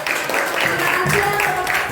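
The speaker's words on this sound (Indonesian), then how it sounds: "Bisa kita beri tepuk tangan." Students in a classroom clap after a group presentation, a brief patter of hands with a few voices and cheers mixed in, fairly close and lively.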